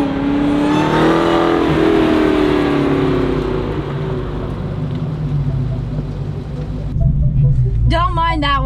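A car builds speed on a race track on its way toward a braking zone, its engine droning loud and close and rising in pitch, then a voice speaks near the end over the engine.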